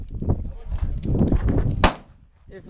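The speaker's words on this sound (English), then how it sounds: "she's shooting a 9mm right now" A 9mm pistol fires at an outdoor shooting range, with several sharp reports including one loud crack near the end over a low, rumbling background.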